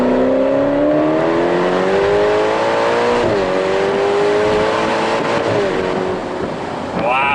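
A Ferrari 812 Superfast V12 accelerating hard up the Goodwood hill, with a loud, close engine note rising in pitch through gears, a shift dip near the middle, and a brief further upshift at the end.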